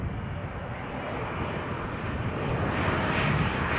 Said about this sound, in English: Nice Bombardier C-Series.